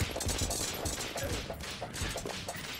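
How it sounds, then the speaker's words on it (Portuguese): A rapid, dense rattle of machine gun fire from an enemy in a Terraria game with the Fargo's Souls mod, rattling on without a break under music and effects. "Tá, não dá tanto dano o tiro da metralhadora dele, mas é muito tiro"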